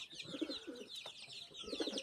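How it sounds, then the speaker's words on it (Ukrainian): A loft of homing pigeons coos in repeated low phrases close by, with lighter chirping and twittering throughout and no speech. "Ось такі голуби."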